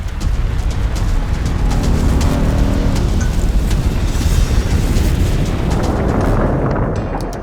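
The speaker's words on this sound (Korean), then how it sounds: "규슈의 기리시마에서는 두 차례에 걸쳐 대형 화산이 폭발했다." Volcanic eruption at Kirishima in Kyushu, Japan, a continuous loud rumbling roar of broadband noise lasting several seconds, heavy and close, fading slightly at the end, with no voices.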